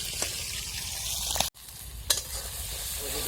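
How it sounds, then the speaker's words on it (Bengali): Potatoes fry in oil outdoors in a village setting, a close steady sizzle broken by brief stirring clicks and a momentary cut, with no voices. "এখন আলু ভাজা চলছে"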